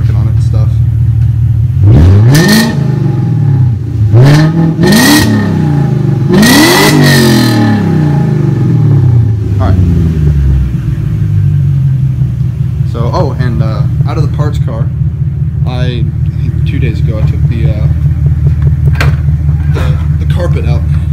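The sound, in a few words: 2001 BMW 540i engine revving through exhaust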